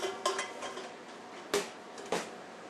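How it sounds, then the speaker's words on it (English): A cooking pot handled in a chef's kitchen, giving a few sharp metallic clanks and knocks at irregular intervals, close and fairly quiet with light rattling between them, no talk. "So now we're just going to take a pot,"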